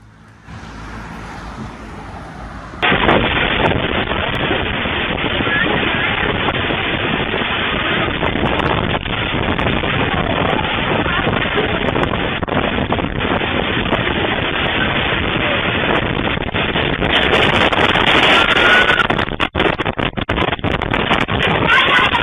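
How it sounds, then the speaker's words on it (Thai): Strong wind from Storm Wipha in Thailand roars and buffets a microphone in a loud, sustained, gusting rush that begins abruptly after a quieter opening and keeps going without a break. "อันนี้ลมเริ่มมาแรงแล้ว"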